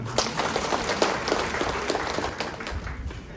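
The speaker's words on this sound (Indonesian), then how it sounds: "Tepuk tangan dong." An audience claps together at a Muhammadiyah Aisyiyah Sunday morning gathering in Gresik, a loud, sustained patter of many hands that runs for a few seconds before thinning out.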